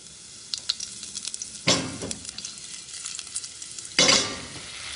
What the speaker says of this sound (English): just fry off the garlic, not until brown or anything, but just so it softens up